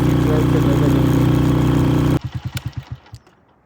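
A motorcycle engine idles steadily and loudly up close, then cuts off abruptly, leaving several decaying thumps as it sputters to a stop.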